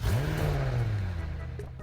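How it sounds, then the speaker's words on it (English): A McLaren car engine in the Driving Empire video game gives a loud, close rev that starts high and winds down in pitch over about two seconds as it fades. "I would like to test the McLaren sounds on every single one of them"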